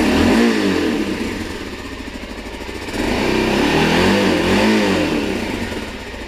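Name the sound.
engine revving to over 4,000 RPM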